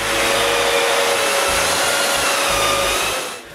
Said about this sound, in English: uses the orbital sander while I use the band sander